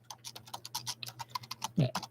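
Keys on a computer keyboard are tapped in a quick, uneven run of close, crisp clicks over a faint low hum, ending with a heavier thump.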